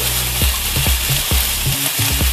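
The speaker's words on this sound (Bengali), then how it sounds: "আবার আমি সমস্ত সবজি মশলার সাথে ফ্রাই করব" Vegetables frying with spices for paneer bhurji make a loud, continuous sizzle, with a rhythmic series of spatula scrapes and taps against the pan running throughout.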